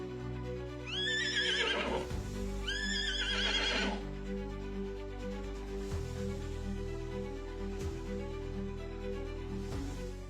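A plains zebra from the grasslands of eastern Africa gives two loud, harsh braying barks in quick succession, each a rising, yelping series, followed by quieter outdoor background.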